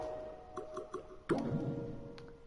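Water drips in Unfinished Swan: a few quick rhythmic drips, then a louder wet splash that lingers over a low ambient hum, fairly close and with no talk.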